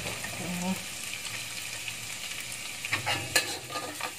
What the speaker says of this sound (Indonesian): Yang pertama kita tumis itu adalah bawang merah dulu. Nah, bawang merah dan bawang putih ya.